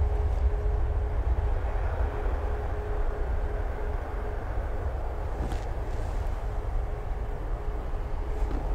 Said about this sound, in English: Let's just see the Ryanair liftoff, which of course it does with much grace.